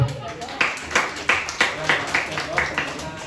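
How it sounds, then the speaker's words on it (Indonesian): A small audience at a teachers' and staff gathering gives a short round of clapping in distinct bursts roughly every half second, close and moderate, with a faint murmur of voices underneath. "Tepuk tangannya, terima kasih deh."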